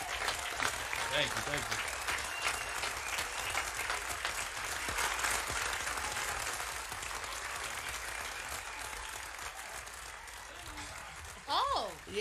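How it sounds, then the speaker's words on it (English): A whole room of people claps steadily in a dense wash of applause, with someone saying a few words of thanks over it near the start. "I need the whole room clapping it up right now."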